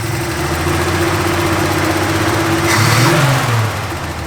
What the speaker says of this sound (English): so if we whack the throttle from idle, it wants to die.